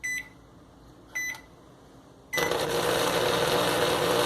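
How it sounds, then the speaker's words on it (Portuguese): A relay clicks and beeps twice, then an electric pump switches on and runs with a steady, fairly loud whir that continues to the end. "Bomba trabalhando."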